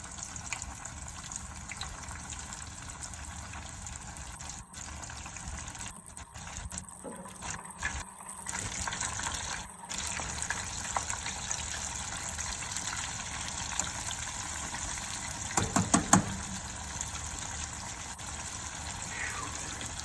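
Steady sizzling and crackling of crappie frying in hot oil, a constant hiss throughout with a few brief pops, moderately quiet and close.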